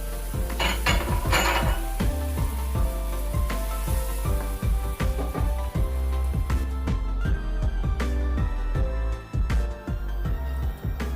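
Metal utensil stirring coconut milk into red curry in a pan, a quick repeated scraping and clinking against the pan with a faint sizzle underneath, loud and close throughout.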